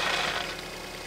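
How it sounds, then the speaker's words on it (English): A car engine idling on its first proper run in over three years, a steady low rumble with a faint knocking rattle, moderately close and without voices. "Success. The car is running."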